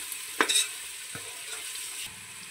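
Egg biryani masala with turmeric sizzles in a pan as it is stirred, with a couple of sharp spoon scrapes near the start over a steady frying hiss.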